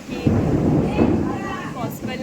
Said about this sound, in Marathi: जोरात वादळ सुटलं आहे